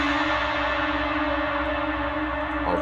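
A washed-out, heavily reverberant sound from an extreme reverb effect with a long, sustained decay fills the space, dense and unbroken, no speech.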